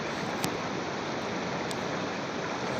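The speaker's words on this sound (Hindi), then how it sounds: "पानी जो रुका हुआ है उससे नीचे गिरता है" Water pours over a small dam on a fast-flowing river at Fizagat in Swat, a loud, continuous broadband rush with a couple of faint clicks and no talking.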